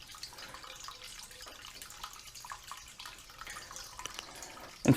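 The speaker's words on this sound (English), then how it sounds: "I'm pumping out all the cleaning solution" Cleaning solution pumped out of a keg through a pipe, a continuous light watery trickle and splashy gurgle at low level, ending in a brief louder thump.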